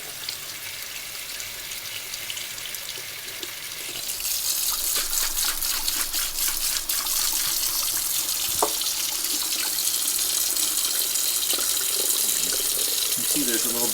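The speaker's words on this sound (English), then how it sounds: "And we'll give it a good rinse." Metal parts from a 1920s Akron 103 lantern, plated pieces among them, being rinsed under a running tap. Steady close water flow and splashing into a sink, louder after the first few seconds, with no talking.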